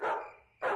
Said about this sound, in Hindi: मुझे बाहर रॉकेट के भौंकने की आवाज आ रही है।